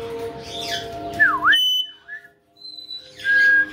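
A pet bird gives clear whistles, a swooping whistled note and a short squawk close by, with brief pauses and overlapping chirpy calls, and no talking.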